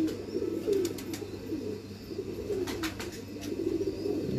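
A show pigeon with orange eyes coos softly in a loft, several low rolling calls spread through the stretch over steady background hum.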